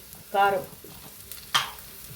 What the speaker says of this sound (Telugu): ఇది కూడా కొంచెం వేగాలండి, పచ్చి కొబ్బరి.